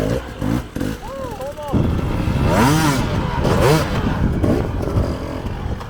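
A dirt bike engine is worked with the clutch, idling and then revving in rising and falling bursts, close and loud, with someone talking over it.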